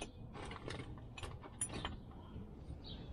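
A wrench works on a bolt during a winter oil change on a Honda CR-V, giving a few soft, close mechanical clicks and scrapes over a steady low rumble, with no talking.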